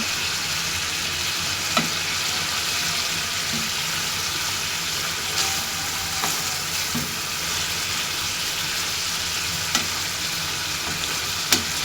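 Pabda fish frying with tamarind, an even, continuous oil sizzle with occasional soft clicks of a utensil, close and steady for the whole stretch, without voices.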